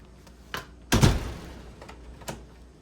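A door being opened in a house in Big Bear Lake: a light knock or click, then a louder thud with a short rattle that fades, and a faint click near the end.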